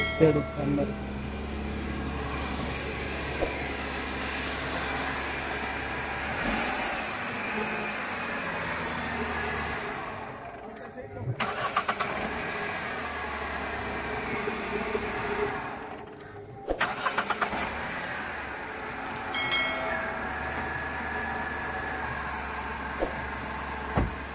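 A Renault KWID's engine runs steadily after starting following a self-starter problem, a continuous close hum with brief dropouts, while someone talks over it.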